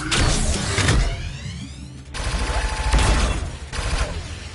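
Mech rig weapons fire at targets in the VR combat game Smokey Rigs, loud bursts of rapid gunfire broken into roughly three long volleys with mechanical whirs and a rising whine between them.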